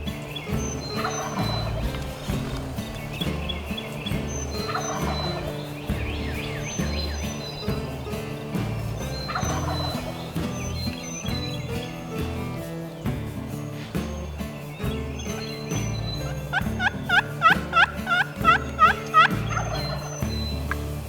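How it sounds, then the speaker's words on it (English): A wild turkey gobbler roosted in a tree gobbles repeatedly at intervals, loud and fairly near, with a faster rattling burst of gobbles late in the sequence over steady outdoor background. "The gobbler's in the tree right here. He's gobbling."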